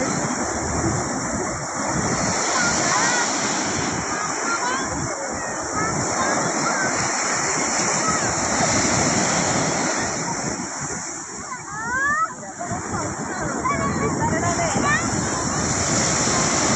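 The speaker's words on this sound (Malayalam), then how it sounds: "നമുക്കല്ലേ എത്ര കണ്ടാലും മതിവരാത്തൊരു സാധനമാണ് കടൽ" Surf rolls onto a beach at dusk in a continuous broad roar, with strong wind buffeting the microphone throughout.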